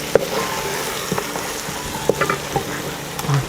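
Chicken curry with curry leaves being stirred in a pan, frying with a steady sizzle while a spoon scrapes and clinks against the metal in scattered strokes, close and fairly loud with no talk.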